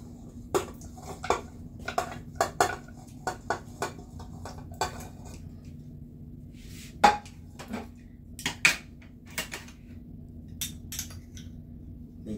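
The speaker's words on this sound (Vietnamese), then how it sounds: "Bây giờ mình cho sườn vào cái xoong này." Pork ribs are dropped into a cooking pot, giving a series of scattered metallic clinks and knocks, some sharper than others, spread irregularly across a quiet kitchen background.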